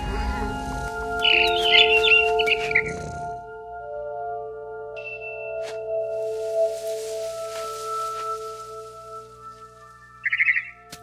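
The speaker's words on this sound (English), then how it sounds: "Then I heard chirping outside my window." Barn swallow chirps in the video game What Remains of Edith Finch: a few high, bright bird calls early on and another brief burst near the end, set over sustained soft musical tones.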